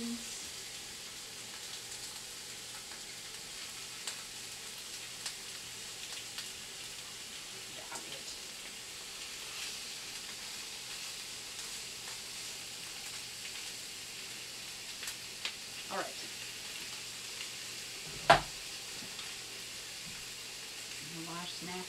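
Sausage frying in a pan at low heat gives a faint, steady sizzle with a few soft clicks and one sharp knock near the end.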